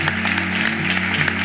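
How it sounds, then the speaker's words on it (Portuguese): A church congregation claps during a Portuguese-language worship service, with a brisk wash of applause over a sustained keyboard or organ tone. "Vamos dar uma salva de palmas ao nosso Deus"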